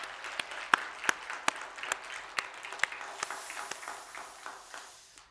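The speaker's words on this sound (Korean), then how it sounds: "우리 하나님 앞에 영광의 박수 한번 드리겠습니다." A church congregation at Sunday worship gives a round of applause, a scattered burst of claps that thins and fades out, heard from a distance in a large room.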